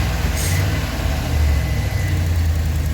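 A Chevy Express van engine idling smoothly, a steady low droning hum with a faint higher whine, constant and unbroken throughout.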